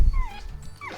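A dog whimpers and yips in two high, drawn-out whines at a dog park during calm-down training, with close handling noise and rumble underneath.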